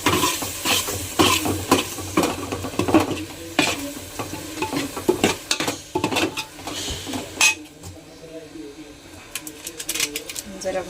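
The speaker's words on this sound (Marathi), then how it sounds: "मसाला मात्र तेलात व्यवस्थित भाजून घ्यायचा." Masala spices frying in oil in a pan while being stirred with a metal spoon, giving a steady sizzle under frequent scraping and clinking strokes that stop near the end, with a voice talking over it.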